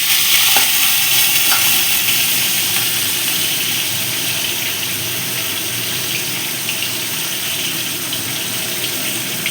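Katla fish frying in hot oil, a dense steady sizzle with a spattering hiss that stays loud and close throughout, with no talking.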